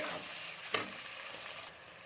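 Tomatoes sizzle and get stirred in a pan for matar pulao, a soft continuous frying hiss with one brief scrape of a spoon near the start, quiet and without talk.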